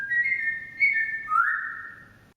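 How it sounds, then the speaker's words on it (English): Birdsong in a golf video game: a few clear, high whistled chirps, the longest a sustained rising note, sounding close and fairly loud over a quiet background with no talk. "The occasional bird chirp lets us know that we're out in nature."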